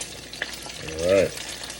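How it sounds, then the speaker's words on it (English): Bacon fries in a pan with a steady crackling sizzle, and a brief tonal clatter rises over it midway. "bacon is starting to brown out."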